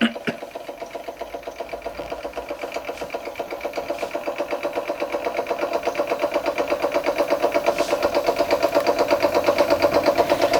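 An American Weeden 43 model steam engine runs steadily, a fast, even mechanical chuff and clatter that gradually quickens and grows slightly louder, with no voices over it.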